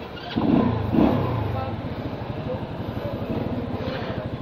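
A Euromotor Marvel 125 motorcycle engine revs twice up close, then settles into a steady idle with a rhythmic putter.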